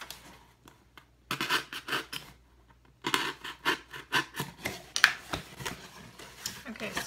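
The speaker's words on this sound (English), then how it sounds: "You've cut your holes for your ribbons to poke through." X-Acto knife slicing slits into a cardboard cake box, a series of short scratchy cutting strokes in quick bursts separated by pauses, close and fairly quiet.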